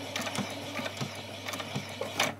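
A sewing machine back-stitches a seam on a doll's dress, giving a short run of quiet mechanical clicks and ticks over a steady low hum, close by and faint.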